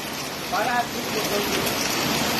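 Steady heavy rain hisses continuously, loud and close, with a faint voice briefly heard underneath.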